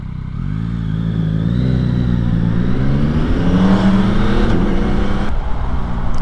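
A Yamaha MT-09 SP motorcycle engine runs steadily nearby, a deep throbbing rumble beneath a thin high-pitched whine, with the pitch rising slightly as it revs.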